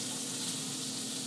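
Broccoli that has cooked down sizzles steadily in a pan with olive oil, a constant close hiss with no breaks and no voices.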